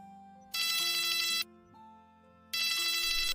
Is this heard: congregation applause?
no